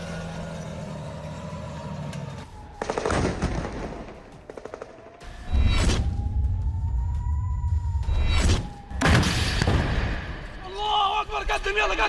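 Explosions and missile strikes in a Middle East clash between Iran and the United States: loud broadband bursts and booms recur across the stretch, mixed with sustained roaring and a siren-like tone, with a voice speaking near the end.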